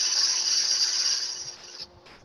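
A carbide woodturning tool shear-cuts a wooden jewelry piece spinning on a lathe. It makes a steady, bright hiss that holds for nearly two seconds, then cuts off, leaving a quiet low rumble.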